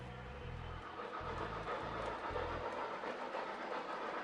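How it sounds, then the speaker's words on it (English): A Lionel O-gauge toy train runs on a weathered home layout, giving a steady rumbling rail clatter with low rhythmic clicks early on, close and moderately loud throughout, with no talking. "Really, to me, it's kind of like a weathered toy train layout."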